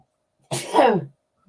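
One loud, close sneeze, sharp and breathy, then silence.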